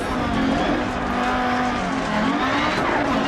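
In the DiRT Rally video game, a rally car brakes hard on the Pikes Peak course, its engine loud and continuous as the pitch drops and then climbs again, with some tire squeal under the steady roar.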